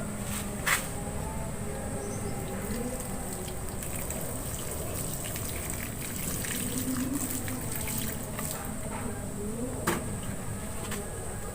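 A soft, steady trickle of water poured slowly onto the soil of a coconut bonsai runs continuously at low volume, with faint insect-like buzzing in the background and no talking.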